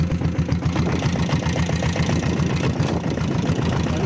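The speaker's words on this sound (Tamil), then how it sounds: "வண்டி வந்து டாப்பில் பாருங்க எவ்வளோ லோவாக" A Royal Enfield diesel Bullet chugging slowly in top gear, its engine pulsing in a steady, loud, low-pitched rhythm that stays even throughout, with no voices.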